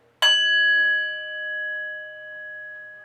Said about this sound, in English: You can of course just hit it with the stick and then it acts like an inverted bell.